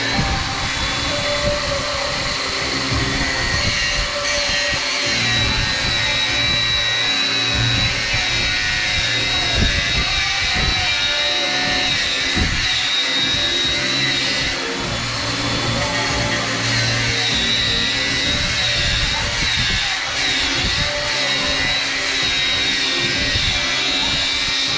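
A Makita cordless angle grinder with its guard fitted, in use on a work project, giving a loud continuous high whine with rough grinding noise that holds steady throughout.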